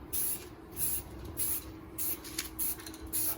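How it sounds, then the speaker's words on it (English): Primer sprayed from a spray gun onto a C8 Corvette engine cover in light coats, heard as six short, loud hissing bursts with brief pauses between them, evenly spaced over a low background hum. "the first step is to go ahead and put some primer down"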